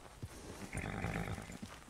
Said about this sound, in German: Das ist mein Pferd. Mit dem reite ich jetzt in die Wildnis hinaus.